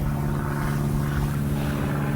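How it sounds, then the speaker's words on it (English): A propeller training plane drones overhead near a fishing spot, a steady low engine hum with a strong fixed tone, heard continuously and fairly loud with no talking. "It's probably a training plane of some kind."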